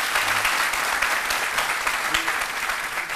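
Audience applause at a Benin theatre company presentation, a dense steady wash of many hands clapping at even loudness for the whole stretch, with no voices on top.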